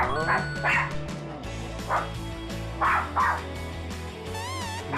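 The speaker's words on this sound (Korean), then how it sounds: "보통 손님들 오면 이렇게 좀 많이 짖고" Small fluffy dog barking at visitors arriving in a home, giving several sharp yipping barks in bursts, with a high whimpering whine at the end.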